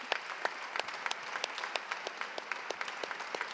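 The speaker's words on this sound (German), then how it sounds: "Einen großen Applaus" An indoor audience at an award ceremony claps steadily for several seconds, producing a dense patter of hand claps at moderate distance.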